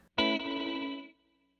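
A single chord rings through an Eventide UltraTap delay pedal with feedback, a bright, effected tone that holds briefly and then fades out by just past one second, with no talking.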